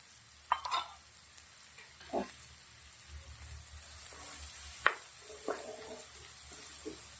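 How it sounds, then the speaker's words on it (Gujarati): Crushed ginger, green chili and garlic paste fries with onions in a pan, a quiet steady sizzle broken by several short spoon scrapes and knocks against the pan. "આદુ મરચાં લસણ વાટેલા નાખું છું 1 ચમચ"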